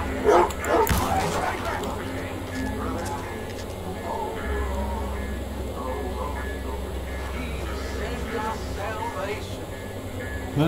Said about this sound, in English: Why are these dogs going crazy?